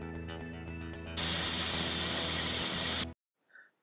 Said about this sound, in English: we put in a tap for blowing down steam to keep the moisture out of the steam